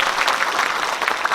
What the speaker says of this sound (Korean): 여러분, 진심으로 오늘 축하드린 마음 큰 박수를 부탁드리겠습니다.